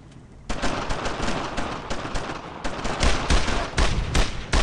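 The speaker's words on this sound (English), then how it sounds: "Okay, Windsock, I want you to suppress. Fire!" Suppressing gunfire in the World War II video game Brothers in Arms, loud rapid bursts of rifle and machine-gun fire crackling almost continuously after a short quiet start.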